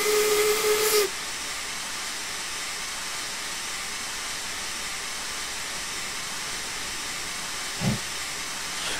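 An LMS Class 8F steam locomotive in Train Simulator 2016 lets out a loud, sharp hiss of steam that cuts off after about a second, leaving a faint steady background wash with one brief low thump later.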